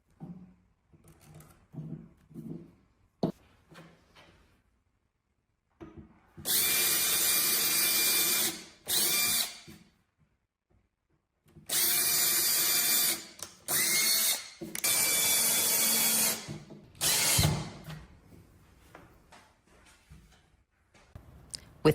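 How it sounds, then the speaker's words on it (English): A power drill pre-drills holes for furniture legs, running in several loud sustained bursts of a few seconds each, with quiet handling clatter and pauses between them. "pre-drill the holes with a bit that's slightly smaller than the screws."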